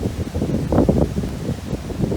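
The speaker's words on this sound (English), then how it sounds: "25-mile-per-hour gusts of wind" Strong 25 mph wind gusts off Lake Superior buffet the microphone in low, rumbling gusts that swell and fade, with no voices.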